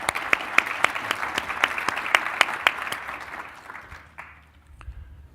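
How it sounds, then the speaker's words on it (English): A conference audience at AWS re:Invent 2018 gives a round of applause, with a few sharp individual claps standing out over the crowd as it builds briefly and then dies down. "And another round of applause, please."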